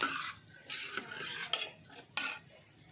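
A spoon stirs moong dal soup in a metal pot, giving scraping swishes and sharp clinks against the rim at an irregular pace, close and clear with no talk.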